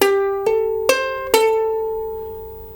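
Ukulele picking a short single-note fill, four clear plucked notes spaced about half a second apart, the last one ringing out and slowly decaying, with nothing else playing.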